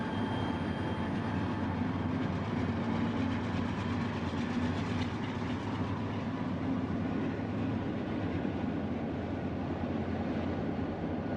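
Santa Fe locomotives haul a train over Stevens Pass in the Cascades, giving a steady, continuous rumble and roar of engines and rolling cars that holds at an even level throughout, with no talking.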